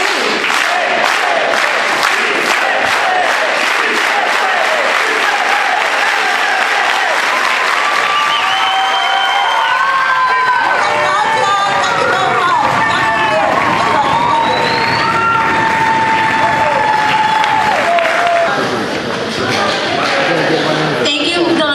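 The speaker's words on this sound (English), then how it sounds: "So let's do an organized hand clap." A crowd at a rally performs an organized solidarity hand clap, starting with slow, evenly spaced unison claps that speed up into a rapid roll and break into loud, sustained applause mixed with cheers, shouts and whistles.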